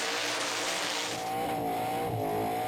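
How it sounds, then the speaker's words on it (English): Car doing a smoky burnout at the Summernats car festival, a loud continuous roar of a high-revving engine with screeching tires, steady and close throughout. "This is a strong, smoky burnout for Wedette."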